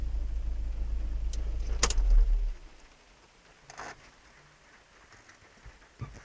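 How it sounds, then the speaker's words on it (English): An idling car engine rumbles low and steady, then cuts out after a couple of seconds, leaving near-quiet with a few faint clicks and taps, heard from inside the car. "Now I'm gonna turn off my ignition now."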